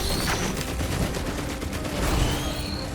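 In the video game Risk of Rain 2, a gunner turret fires a dense, continuous burst of rapid gunfire that fills the whole stretch at a loud, steady level.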